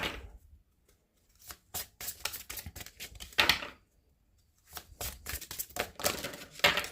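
Tarot cards are drawn and handled close by in bursts of crisp snaps and flicks, broken by short quiet gaps.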